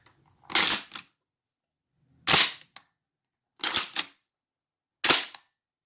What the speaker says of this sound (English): You just want to cycle that action a couple times, make sure everything is functioning properly.